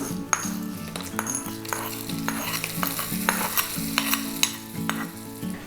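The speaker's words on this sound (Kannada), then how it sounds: "ಈಗ ಇದಕ್ಕೆ ಒಗ್ಗರಣೆಯನ್ನು ಸೇರಿಸ್ತಾ ಇದ್ದೀನಿ" Oggarane tempering sizzles in a pan as it is added to doddapatre (Indian borage) tambuli, a close, steady crackling sizzle with repeated stirring scrapes and clinks over soft background music.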